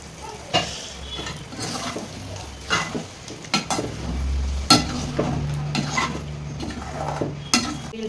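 About ten beaten eggs with onion and capsicum fry in a pan with a steady sizzle, broken by the scrape of a spatula and occasional metallic clinks, close and unhurried.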